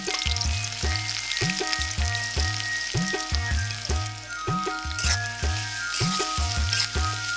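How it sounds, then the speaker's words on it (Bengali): Chopped onions fry in hot oil in a wok for a duck meat dish, a constant close sizzle over a rhythmic series of low thumps repeating throughout. "কড়াইয়ের গরম তেলে প্রথমে পেঁয়াজের কুচি"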